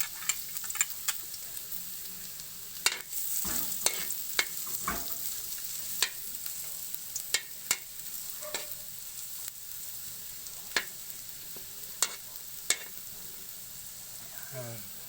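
Chopped garlic sizzling in hot cooking oil for a Filipino sardine dish, a steady soft frying hiss with sharp crackles and spoon clicks scattered throughout, no talk.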